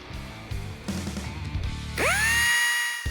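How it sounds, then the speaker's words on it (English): A drill press whines and rises in pitch as it spins up a 3/8 inch bit to drill holes on a 1992 Camaro build, following quieter mechanical rattling and machine noise. "Then we can begin drilling all the holes out using the drill press and a 3/8 inch drill bit"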